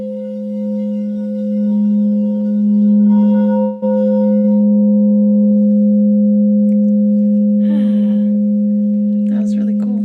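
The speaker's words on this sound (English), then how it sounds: "so this is the crystal bowl" Crystal singing bowl rings with a pure, sustained tone and a higher overtone, loud and steady, with a faint tap partway through and brief soft voices near the end.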